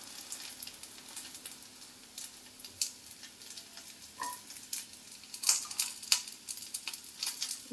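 Garlic fries in hot oil in a pan while a traditional Holige saaru is being made. A soft, faint sizzle runs throughout, with scattered crisp crackles and pops that grow a little busier toward the end.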